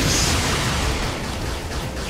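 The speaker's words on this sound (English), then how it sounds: "Explosions!" Dense, continuous explosion noise from the action game Bayonetta, with a broad roaring wash of blasts and rumble. It stays loud and unbroken for about two seconds, with no talk over it.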